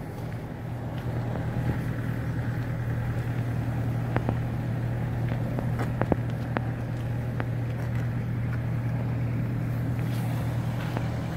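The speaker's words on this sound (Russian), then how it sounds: "Двигатель дизель, 3 цилиндра." A three-cylinder diesel engine of a Kubota GL-21 four-wheel-drive tractor idles steadily with a low, even rumble throughout, joined by a few faint clicks and knocks.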